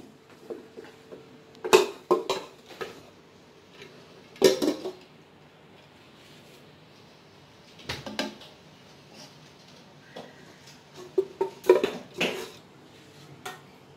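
Remaining rice spooned into a chicken dum biryani pot, a series of close metallic clanks and scrapes of spoon against the pot in irregular bursts, separated by quiet pauses.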